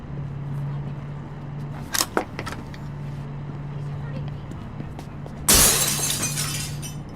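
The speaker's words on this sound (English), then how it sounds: "The glass is too thick! I need something to break it!" Thick glass smashed with a fire extinguisher in a radio drama, a couple of sharp knocks against the pane and then a loud bright shattering burst with scattering shards, set over a steady low hum.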